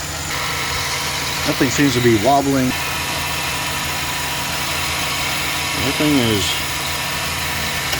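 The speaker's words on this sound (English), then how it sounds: "Just watching the engine run." A 2009 Chevy Silverado truck engine idles with a steady, even rumble beneath a voice, which speaks in two short bursts.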